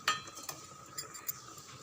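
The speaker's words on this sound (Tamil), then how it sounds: "நல்லா கலந்து விடுங்க." A spoon scrapes and clinks against a pot of lentil curry in a few light, separate taps, with a soft background hiss.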